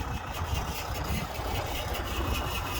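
A truck engine idling with a misfire, heard close up as a continuous low rumble with a slightly uneven, lumpy pulse and no talk.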